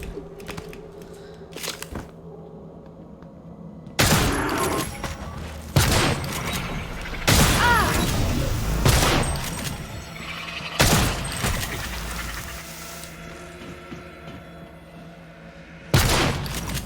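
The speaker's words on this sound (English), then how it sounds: "So yeah, I'm going to kill it with a shotgun" Shotgun fire in the video game Prey: several loud, booming blasts with ringing tails, spaced irregularly over a quiet, low background, with no talk.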